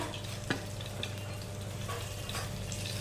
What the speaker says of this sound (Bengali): গ্যাসের ফ্লেমটা কমিয়ে দিয়ে ভাজতে ভিতরে চিকেনগুলো খুব ভালো সিদ্ধ হয়ে যায়